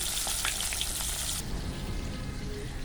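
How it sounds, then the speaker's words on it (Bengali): Fish frying in hot oil, a loud, steady, close sizzle with bursts of spitting and crackling that suddenly drops to a quieter, duller hiss partway through. "আর তেল গরম হয়ে গেছে, আমি মাছটা ছেড়ে দিলাম, মাছটা ভাজি।"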